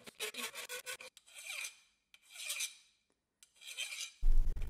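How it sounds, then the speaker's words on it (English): Hand file rasping over brass corners against hardened filing buttons, three close runs of scraping strokes, the first a fast series of short strokes and the next two longer, separated by quiet gaps. "You can tell when you've reached the filing buttons because the file will start skating quite noticeably."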